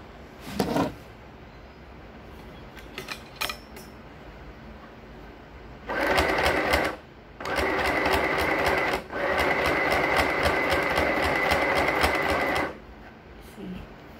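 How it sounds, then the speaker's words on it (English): Sewing machine stitching along the edges of a trouser waistband, running in loud sustained bursts with short pauses between them, preceded by faint clicks and handling noises. "I will cover the stitches that I made before."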